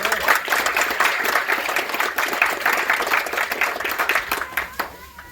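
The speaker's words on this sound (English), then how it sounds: "Give a round of applause for Mr. Davis." A room full of people applauds steadily at a groundbreaking ceremony, a dense patter of clapping hands that keeps up throughout before thinning out at the very end.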